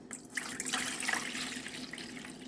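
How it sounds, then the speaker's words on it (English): Water poured from a container into jars of homemade kimchi, a steady close splashing stream running continuously throughout. "let me go ahead and pour this here water that I had"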